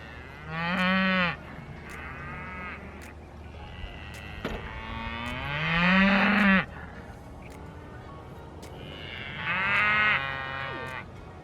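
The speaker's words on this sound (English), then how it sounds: "the cows, you're probably going to hear them mooing." Cows on a farm moo three times in long, loud, drawn-out calls, the middle one the longest, with quieter pauses between them and no talk.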